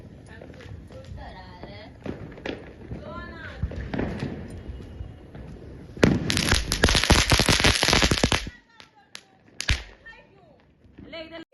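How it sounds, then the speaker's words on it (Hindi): Diwali firecrackers burst in a loud, rapid crackling string lasting a couple of seconds, then a few scattered pops follow, with people talking and moving around before and after. "लेकिन पटाखा"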